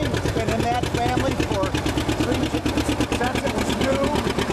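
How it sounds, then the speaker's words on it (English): A 1954 John Deere 60 two-cylinder tractor runs steadily in a rhythmic, even putt-putt while being driven, close and continuous throughout. "driving a 1954 John Deere 60"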